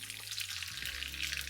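Mustard seeds for a tempering crackle and sizzle in hot coconut oil in a pan on the stove, a soft, steady frying hiss close by with a low hum beneath.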